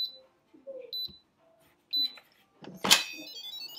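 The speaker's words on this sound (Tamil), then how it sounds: "இப்போ நான் உங்களுக்கு ஓப்பன் பண்ணோடனே சவுண்ட் வருது பார்த்தீங்களா" An Instant Pot electric pressure cooker gives a few short electronic beeps, then a sharp clunk and brief hiss as the lid is opened, all close and fairly quiet in a still kitchen.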